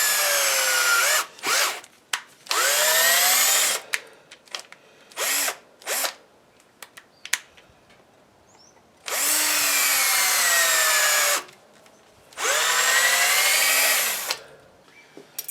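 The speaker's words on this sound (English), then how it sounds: "just gonna drill it by hand" A hand drill whirs in several bursts, some short and some long, with pitch sagging as it follows a guide hole into material, separated by quiet pauses.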